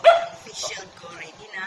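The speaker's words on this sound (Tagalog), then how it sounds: "Sorry sa aso." A dog barks and yips close by at a rural home in the province, loud at first and then whimpering, mixed under a woman's speech.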